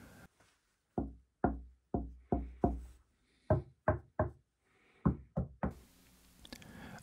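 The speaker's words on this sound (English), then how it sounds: "The MDF walls are heavy and they are good at absorbing audio wave pretty well, but they still resonate quite well" Knuckles rap on a heavy MDF cabinet wall in a workshop, giving a dozen hollow, resonant knocks in short clusters, close and sharp against near silence.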